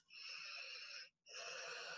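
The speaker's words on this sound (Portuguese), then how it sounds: "E respira. E vai respirando em cima dele também." A person breathes out onto a crystal held close, two steady airy exhales broken by a brief pause, near and soft with no talking.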